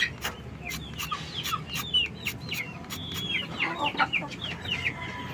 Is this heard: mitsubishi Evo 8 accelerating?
no